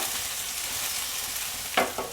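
Dough snack pieces being stirred and tossed in a little oil in a pan with curry leaves: a soft, even sizzle, then a short scrape of stirring near the end.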